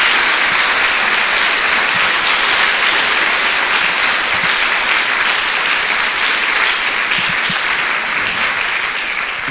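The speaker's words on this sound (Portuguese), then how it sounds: "Dê uma salva de palmas a Jesus." A church congregation applauds together in a loud, steady burst of clapping that holds for nearly ten seconds without letting up, with no voices standing out above the noise.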